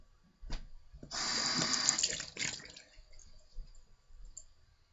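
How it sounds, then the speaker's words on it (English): Water runs steadily from a tap for about a second and a half while a straight razor and a whetstone are rinsed, preceded and followed by faint clicks and handling knocks. "So what I'm going to do is rinse this razor and stone."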